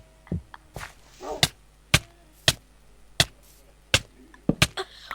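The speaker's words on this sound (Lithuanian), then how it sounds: "O, čia nukirtau medį." In the video game Minecraft, a tree is chopped with a run of sharp, evenly spaced woody thunks, about ten blows in quick succession, close and clear with no talk.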